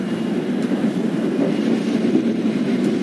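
Purwojaya passenger train pulling out of Purwokerto station, a steady, loud rolling rumble of wheels and carriages with no voices.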